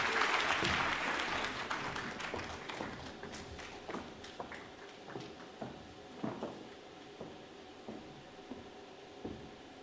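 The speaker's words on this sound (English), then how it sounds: "Another round of applause, please, for the Minister of Finance" Applause from an audience at a budget event honours the Minister of Finance, loud and dense at first, then thinning and fading into scattered individual claps over several seconds.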